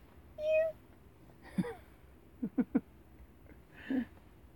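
A house cat gives a short meow, followed by a few brief soft vocal bursts and a final mew, close by in a quiet room.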